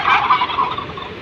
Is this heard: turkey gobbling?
yes